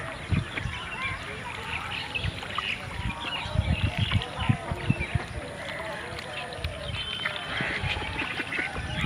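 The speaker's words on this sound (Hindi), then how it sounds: "ये बतख देखिए तालाब में तैर रही हैं।" Ducks quack and honk repeatedly while swimming on a large pond brimming after rain, mixed with a steady outdoor murmur and voices talking in the background.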